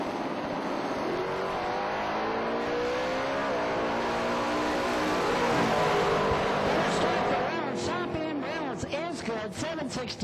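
Ford Mustang and Chevrolet launching side by side at a drag strip, loud sustained engine roar climbing through the gears, with a crowd and a commentator's voice faintly underneath.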